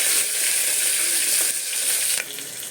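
Garlic, green chillies and onion fry in a pan with a loud, steady bright sizzle that holds evenly, easing slightly near the end.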